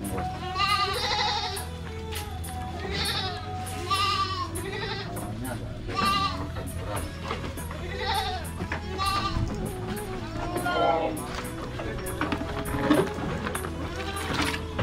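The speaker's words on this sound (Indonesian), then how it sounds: "Kambingnya makan campuran ini" Dairy goats bleating repeatedly near a feeding trough where they eat a corn feed mix, overlapping calls over steady barn noise and movement, with people talking in the background.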